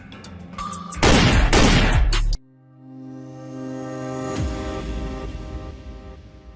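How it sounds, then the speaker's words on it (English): Shotgun blasts from a TTI 3G Gen-12 Tier Tactical 3 gun, a loud burst of closely spaced shots at about the one-second mark followed by a long ringing, echoing decay. "We'll be taking a few shots with the Gen-12 Tier Tactical 3 gun."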